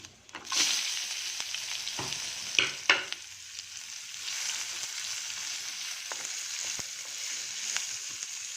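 Onion, dried red chilli and curry leaves fry in hot oil, giving a steady close sizzle broken by a few sharp spatters and stirring scrapes near the start.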